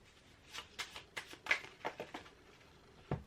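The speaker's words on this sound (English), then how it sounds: "Wonder if I can shuffle." Tarot cards shuffled by hand give a series of soft, quick riffling flutters and snaps, about ten separate bursts at close range in a quiet room.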